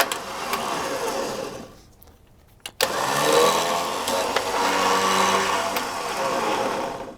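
Electric winch on a Jeep TJ winch and bumper install, powering the cable out with a steady whirring motor drone that cuts out briefly midway, then resumes and runs on.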